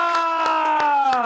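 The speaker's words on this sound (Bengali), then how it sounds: "হাততালি" Children in an English lesson clap four evenly spaced times against a sustained, held voice tone, crisp and close.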